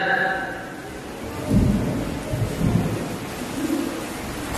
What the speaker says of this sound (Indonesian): hujan di mana-mana sama